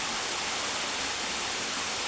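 Steady, dense rush of falling water from a waterfall pouring close by onto a bather's back, continuous and loud with no pauses.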